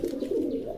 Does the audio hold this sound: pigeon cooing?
yes